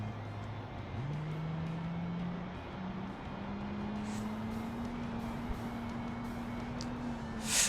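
A simulated premium car in Automation driven hard, its engine droning steadily and rising in pitch as it revs up and holds a sustained tone, with faint clicks near the end.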